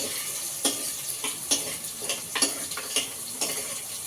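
A spoon or ladle stirs mutton bone soup in a pot, making soft scraping strokes that repeat every half second or so against a quiet simmering background.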